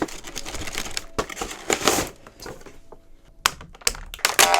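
Toy packaging for a JAKKS Pacific Dog Man Supa Buddies five-pack figure set being torn open, with bursts of ripping and crinkling cardboard and plastic close up, pausing briefly before a final flurry of tearing.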